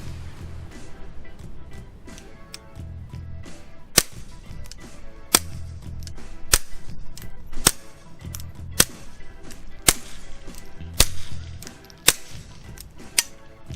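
A .22 LR pistol fitted with a Q Erector modular silencer in mid-length configuration fires about eight spaced shots, mixing subsonic and supersonic rounds, each a sharp crack over a low background, some noticeably louder than others.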